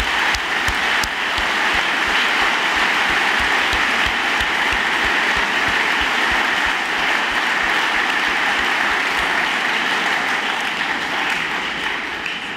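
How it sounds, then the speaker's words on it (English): School audience of students giving house staff a big round of applause at a house song event, a sustained, loud roar of clapping from a large crowd lasting the whole stretch. "I'm sure the students would like to join me in giving you a huge round of applause"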